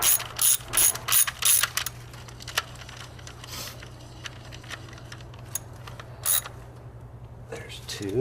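A ratchet clicks in fast bursts while tightening valve cover bolts on a 2005 Ford Focus, a few loud close runs of ratcheting early on and again later, with quieter handling noises in between.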